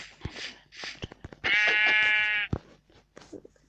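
Sheep in the video game Minecraft give one sustained, loud bleat lasting about a second, set among short clicks and scattered game sounds.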